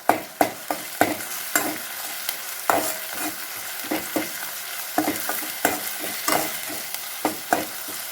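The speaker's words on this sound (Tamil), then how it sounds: "இஞ்சி பூண்டு பேஸ்ட் கொஞ்சம் அதோட பச்சை வாசம் போக நல்லா வணக்கிக்கலாம்" Ginger garlic paste sizzles in a hot pan for potato and drumstick masala curry, with a spatula scraping and tapping in an irregular rhythm over the steady frying hiss.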